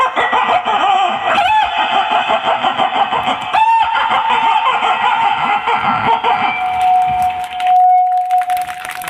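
A man imitates a rooster crowing, loud, close and strained, with several drawn-out crows before a final sustained call, delivered during a speech at a rally.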